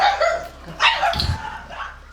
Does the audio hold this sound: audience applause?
no